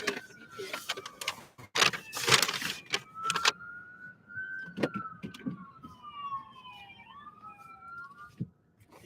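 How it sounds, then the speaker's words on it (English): Ambulance sirens pass at moderate distance, a wavering wail rising and falling across the middle and end of the stretch after several sharp clattering knocks, with street noise underneath. "the ambulances are going crazy today"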